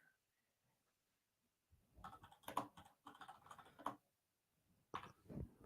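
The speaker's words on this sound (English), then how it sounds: "Keyboard clicks." Quiet computer keyboard clicks come in a few short bursts of taps after a near-silent start, close by and fairly faint, with a couple of separate strokes near the end.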